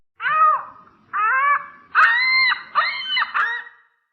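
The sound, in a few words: ostrich call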